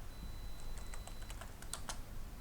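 Someone types on a computer keyboard while entering text into PowerPoint, producing a quick run of light, close key clicks that cluster toward the end against a faint background hiss.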